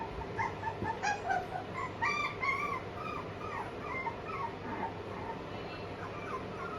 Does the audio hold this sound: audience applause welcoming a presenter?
no